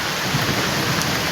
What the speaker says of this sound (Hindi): बारिश होने लगी, देखिए